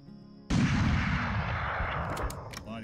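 Another sharp rifle shot at a kudu in Hunting Unlimited 2009 bursts from a quiet background and trails off in a long, booming reverberant tail.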